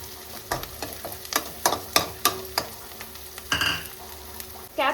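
Onion and green chillies frying in a pan, with steady sizzling broken by repeated scraping stir strokes of a spatula, close and fairly loud, with no talking.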